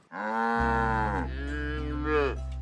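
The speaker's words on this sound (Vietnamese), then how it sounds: "Con bò, bò là loài động vật ăn cỏ" A cow gives one long, loud, close moo that rises then dips in a drawn-out low call, with steady background music underneath.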